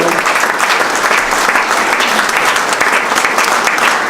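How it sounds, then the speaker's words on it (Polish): Loud, dense applause from a crowd at a museum opening, a continuous wash of many hands clapping with no pauses, close and full. "wielkie brawa dla całego tego wspaniałego zespołu"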